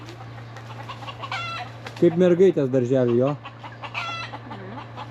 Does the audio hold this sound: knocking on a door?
no